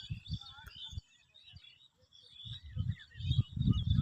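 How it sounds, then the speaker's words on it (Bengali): Birds chirping in village fields give a few scattered high tweets over low rumbling background noise, faint and brief. "পাখির কিচিরমিচির শব্দ মন একেবারে আনচান করে ফেলে।"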